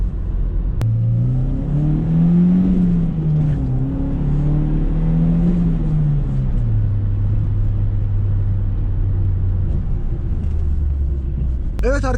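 A 2.0-litre carburetted naturally aspirated Nissan Altima engine pulls uphill under load, a steady close droning rumble with engine pitch rising slightly then settling lower, heard from inside the car.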